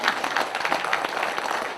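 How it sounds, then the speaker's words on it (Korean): Audience applause at a legislator's policy report meeting, a brief burst of dense clapping from a crowd, fairly faint and steady. "박수 한번 보내주시죠."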